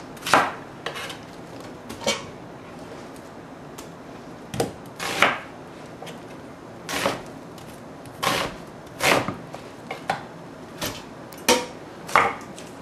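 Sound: knife chopping beef into large chunks for curry

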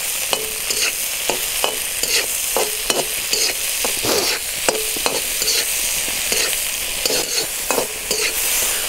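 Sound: carrots frying on a charcoal grill for buckwheat

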